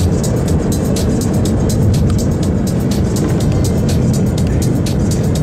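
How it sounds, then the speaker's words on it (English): A Kawasaki Ninja H2 motorcycle and a Bugatti Veyron race from a rolling start at 50. A loud, continuous roar of engine and rushing wind holds steady throughout, with no talking. "the Kawasaki H2 versus the Bugatti Veyron. And we're gonna do a rolling start from 50."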